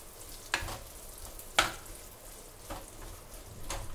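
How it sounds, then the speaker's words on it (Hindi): Dates sautéing in a pan as they soften and melt into a paste, a quiet steady sizzle broken by a couple of sharp spatula clicks and scrapes, with no talking. "इस खजूर को हम इसमें सॉटे करेंगे, और जब तक ये मेल्ट होंगे तब तक हम इन्हें सॉटे करेंगे अच्छे से"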